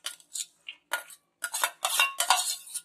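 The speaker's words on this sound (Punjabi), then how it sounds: "ਇਸ ਤਰੀਕੇ ਨਾਲ ਵੱਡੇ ਬਰਤਨ ਦੇ ਵਿੱਚ ਆਲੂ ਮੈਂ ਪਾ ਲਏ ਆ" Grated potatoes are scooped into a large cooking vessel, producing a quick series of close metallic clinks and scrapes from a utensil against the pot, with no talking.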